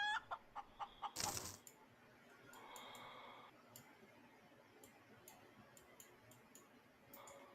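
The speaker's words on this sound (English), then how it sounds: "All right, chicken." A chicken in the space survival game Breathedge gives a short burst of clucking after a run of rhythmic ticks, followed by faint game ambience and sparse clicks, all fairly quiet.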